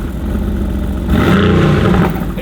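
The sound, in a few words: supercar engine revving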